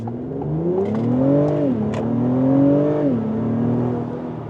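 Acura TLX Type S with all-wheel drive launching hard from a standstill, its engine note climbing steadily through rising harmonics with a brief dip at a gear change before pulling strongly again, loud and close.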